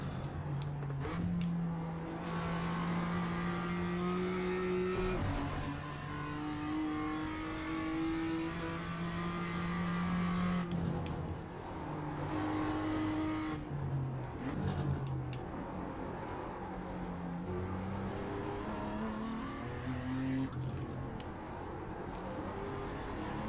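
A race car laps Summit Point track, its engine revving up through the gears and dropping off into corners in repeated cycles, loud and close as from onboard, with no talk.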